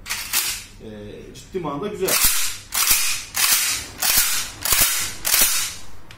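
A Dağlıoğlu FD20 20-gauge AK-style shotgun's action being worked, about six sharp metallic clacks at a steady rhythm after a brief spoken comment, loud and close.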